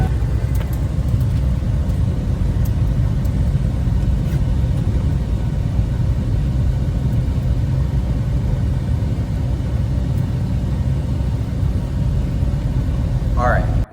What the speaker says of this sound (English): I'm just gonna drive the car into the garage